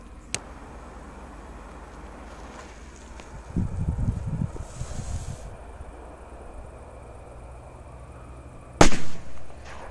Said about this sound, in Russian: Класс, ребята, жуки взрываются хорошо.